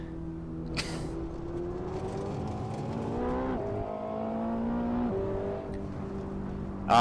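A Ferrari 488 GTB engine pulls hard uphill at Laguna Seca. Its rising tone climbs through gear changes with a brief drop at each shift, and it stays loud and close throughout with no talking.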